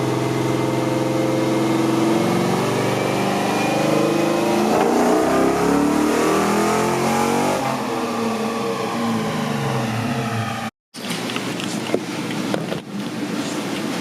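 An LS-swapped 1963 Chevy Nova wagon engine revs loudly up close, a continuous rising and falling roar with sweeping pitch changes, then a brief cutoff before the engine picks back up.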